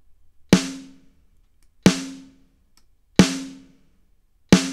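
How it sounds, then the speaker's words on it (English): Four evenly spaced snare drum hits, compressed but unequalized, each a sharp crack with a deep, loose body and a short decaying ring, played alone with silence between strikes. "It's a really flabby deep snare."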